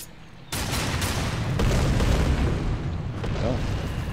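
Heavy booming gunfire and explosive impacts from the Darksiders II video game roll on continuously and loudly, shooting at a target in a dense, rumbling wash with no clear gaps.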